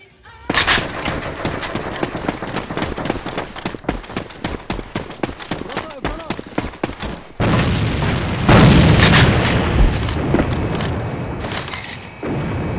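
Repeated grenade blasts and bursts of gunfire fill a busy AVA online shooter match, loud, dense booms overlapping with rapid shots, building into heavier explosions near the end.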